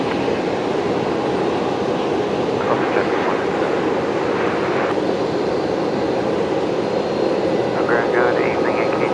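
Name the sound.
Fokker airliner arriving at Brisbane Airport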